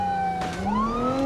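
Police car sirens in a video game chase whine and sweep in pitch, loud and close, layered with a second wailing siren and a faint engine underneath.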